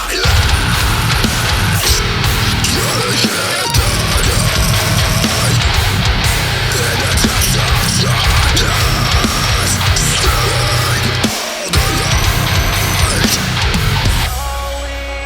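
A heavy metal song's first verse pounds along with dense distorted guitar riffing over driving drums, loud and continuous throughout, with two brief breaks where the texture drops out.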